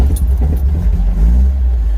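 Small British MG sports car engine running and trying to move, a steady low rumble close by with some rattling, jangling sounds on top and no talk.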